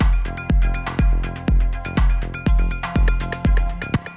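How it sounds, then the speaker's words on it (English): An 808 rim shot with a delay effect, heard in a melodic techno beat. Sharp hits land at a steady pulse, each followed by fading echoes, loud and with no voices. "you hear that little rim shot and you hear it kind of like delaying and delaying and delaying"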